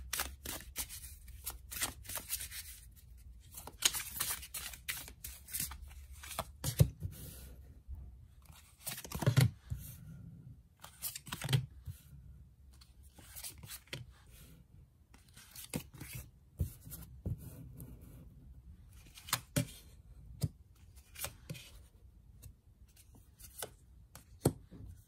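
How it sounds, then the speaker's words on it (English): Cards being shuffled and handled, with repeated soft riffles, taps and slaps coming in irregular bursts, close by and fairly quiet. "let's shuffle some cards and gauge this energy for air signs"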